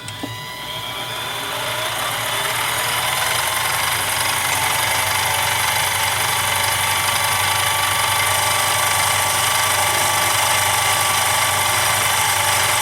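A metal lathe spinning up while a carbide diamond insert cuts lubricated metal: a steady, loud mechanical whir and hum that builds over the first two seconds, then holds evenly with a bright, hissing high edge.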